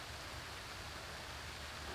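Rain falls steadily through pine woods on a cool October evening, a soft, even hiss of drops on needles and ground, continuous and faint with no other sounds.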